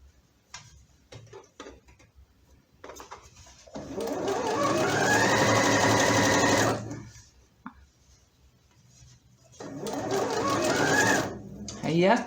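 A sewing machine stitches a fabric elephant toy for a baby, with two loud bursts of rapid mechanical whirring and ticking, a short run and then a longer one, set between quieter handling noises and someone speaking.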